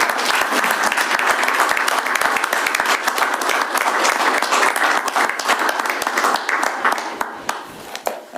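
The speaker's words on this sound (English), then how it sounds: "they deserve another round of applause." A crowd at a county commissioners meeting applauds steadily and loudly, dense clapping that holds for several seconds before tapering off slightly at the end.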